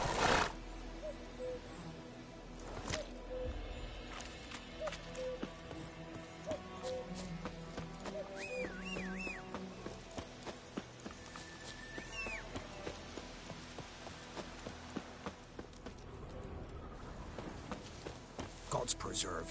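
In The Witcher 3 video game, the horse Roach gallops with a steady clip-clop of hooves, and brief whinnies and a rider's voice are heard over ambient game sound and music.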